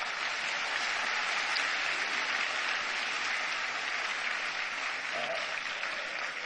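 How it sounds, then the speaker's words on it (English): Sustained applause from a large audience at a Barack Obama town hall in Delhi, steady and dense throughout, with a faint voice briefly audible near the end. "Give Neha a big round of applause once again."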